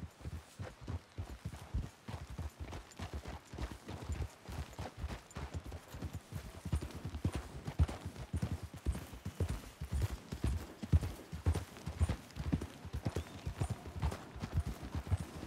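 Horse hooves clip-clop steadily in Red Dead Redemption 2, a fast, even run of hoofbeats that goes on throughout, fairly close and with no talk over it.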